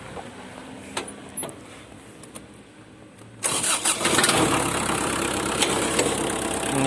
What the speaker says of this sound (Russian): Трактор заводится со сцеплением.